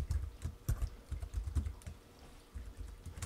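Someone types a default password on a computer keyboard, producing quick, uneven clusters of soft key clacks close by, with brief pauses between bursts and no talking.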